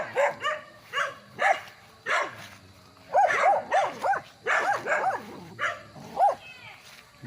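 Barking from a dog on a rural farm lot in Magdalena, Laguna comes in short repeated bursts, some doubled. It carries loud and fairly close, with yips mixed in throughout.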